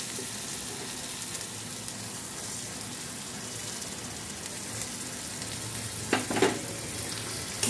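Soybean malai curry masala frying in oil in a pan: a steady, dense sizzle close by, with a brief scrape of stirring near the end and no one talking.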